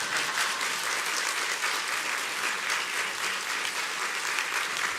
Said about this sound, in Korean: 큰 박수로 목사님 모시겠습니다